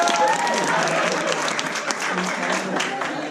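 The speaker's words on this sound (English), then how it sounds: "round of applause if you want to hear Twin Falls" A small audience claps steadily for a few seconds, a dense patter of applause close by.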